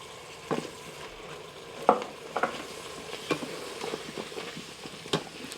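Flour stirred into onion and celery softened in an Instant Pot, a low sizzle under a handful of sharp spoon scrapes and taps against the pot, close and irregular, with no talk.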